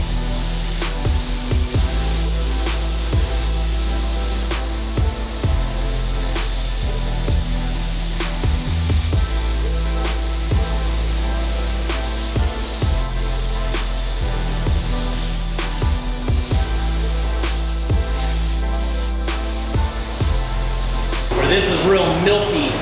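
Spray gun laying Grabber Blue waterborne paint onto a Mustang body, a steady close hiss running unbroken under talk before cutting off near the end.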